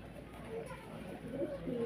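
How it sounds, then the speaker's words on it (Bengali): Pigeons at a pigeon farm give soft, low cooing calls close by, partly masked as people talk over them. "আরো এক জোড়া কবুতর আনছেন একেবারে"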